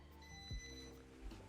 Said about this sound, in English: Hold on, sorry for the beeping.